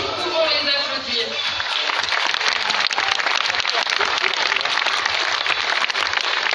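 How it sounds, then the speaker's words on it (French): Spectators at a sea lion show at Beauval zoo break into sustained, loud applause after a brief voice at the start, with the clapping continuing densely to the end amid some crowd noise. "Nous pouvons les applaudir."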